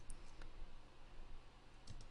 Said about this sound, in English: if we just start typing in